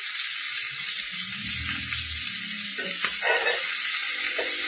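Steak bites sizzling in a hot pan, a steady bright frying hiss with small crackles and pops, close and continuous, no voices over it.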